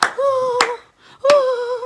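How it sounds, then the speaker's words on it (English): Three sharp hand claps ring out, spaced apart, each a brief crisp slap, with a voice sounding between them. "Oh, you clap for me, make I tell you."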